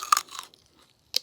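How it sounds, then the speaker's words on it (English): Raw celery snaps under a bite, two quick crunchy cracks close to the mic, a short pause, then one more sharp crunch while chewing. "Oh yeah, good crunch."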